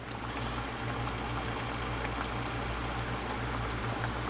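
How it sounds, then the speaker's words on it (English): Spicy hot sausage with peppers and onions bubbling in a pan, a dense, even sizzle and bubbling that runs without a break at moderate level, with a low steady hum beneath and no voices. "I hope you can see this bubbling."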